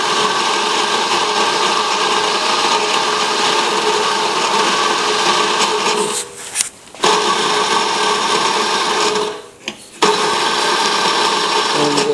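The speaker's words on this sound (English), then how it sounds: "then you push in the micro switch, and then you grind the coffee" Coffee grinder on an espresso machine grinding beans into a portafilter, a loud steady whirring drone that runs continuously, broken by two brief pauses near the end before grinding resumes.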